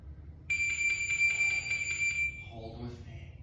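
An electronic workout timer bell rings during an abs and core session, one loud sustained high-pitched tone lasting about two seconds before it cuts off, with a voice speaking right afterward.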